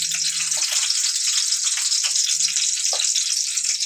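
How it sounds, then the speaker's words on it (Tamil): Mustard seeds frying in two ladles of hot coconut oil in a kadai, giving a steady bright crackling sizzle with a few sharper pops, close and continuous, with no voices. "2 கரண்டி தேங்காய் எண்ணெய் போட்டு எண்ணெய் சூடாகினதும் கொஞ்சம் கடுகு"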